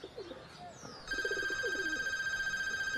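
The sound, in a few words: telephone ringing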